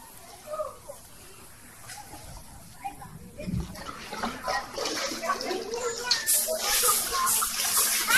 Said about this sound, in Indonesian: Di sana kita bisa melihat aliran sungai bawah tanah yang mengalir sangat deras.